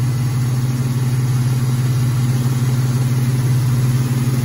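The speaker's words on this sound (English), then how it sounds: "It's got a nice little exhaust." A 2003 Ford Mustang's steady, deep engine idle rumbles close by through its exhaust, an even low drone with a faint rhythmic pulse and no voices.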